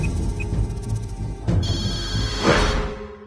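A telephone bell rings in a domestic drama scene, a repeated electronic trill over low background rumble, moderately loud and close, with no talk over it.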